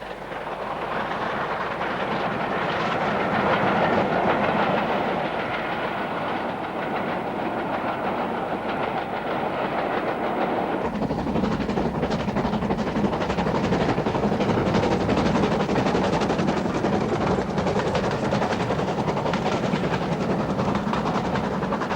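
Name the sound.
steam train passing on a cross-country line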